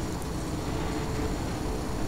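Engines of a crashed BF-110 fighter-bomber still running at a spawn point in War Thunder, a steady low droning rumble that holds at a constant level throughout with no talk.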